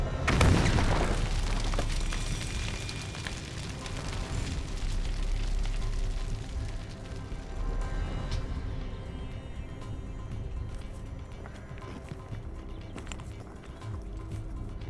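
A shaped charge with a copper cone detonates in a sharp, heavy blast at the start, followed by a long rumbling roar and debris settling that slowly fades over many seconds, far off and without voices.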